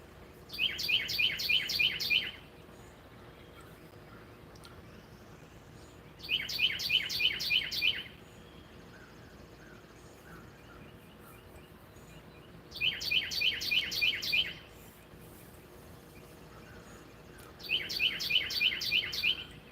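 A small bird sings at dawn in four loud, close bursts of rapid repeated chirps, each about two seconds long, separated by quiet stretches with a faint steady background hum.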